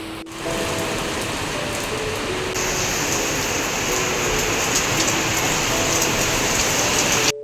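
Steady rain pours down continuously, a dense even hiss that fills the whole stretch at constant loudness, growing slightly brighter partway through, with no voices.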